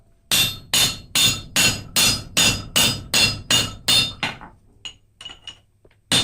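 Ten evenly spaced, ringing hammer blows on a hot forged railroad spike resting on the flat of an anvil, loud and close, followed by a few lighter, scattered taps as the rhythm trails off.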